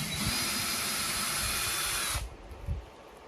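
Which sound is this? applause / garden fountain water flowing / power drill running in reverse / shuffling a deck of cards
power drill running in reverse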